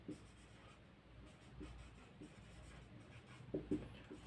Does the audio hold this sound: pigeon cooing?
no